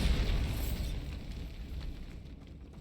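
A Bombarda blast spell in the game Hogwarts Legacy, a deep rumbling explosion that starts loud and heavy in the low end, then decays steadily over a few seconds into a fading roar.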